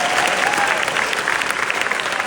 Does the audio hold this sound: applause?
yes